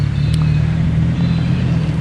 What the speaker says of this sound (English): Sorry for this car going past here.